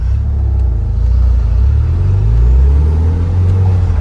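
An Audi TT with a short shifter and single mass flywheel, engine running while driving, a loud low rumble with rising and falling engine tones throughout and no talk.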